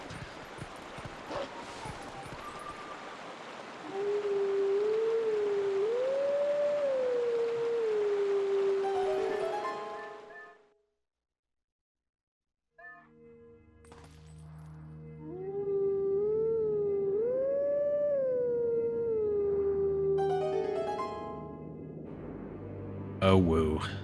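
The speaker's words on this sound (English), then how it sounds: "before we see Norgor, we have to howl" A character in a video game speedrun lets out two long, wavering howls, the second one richer and layered like several voices howling in unison, separated by a short silence and set over quiet background sound.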